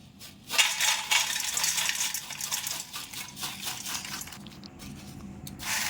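Crispy fried potato pieces for a potato mixture rattle and scrape as they are tossed and stirred, giving a dense, fairly close run of crackly clatter with brief pauses and a few bursts.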